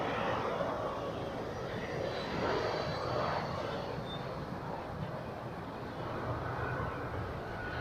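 An airplane landing at Zurich Airport gives off a steady, loud broadband roar that swells slightly midway and holds throughout, with no talk over it.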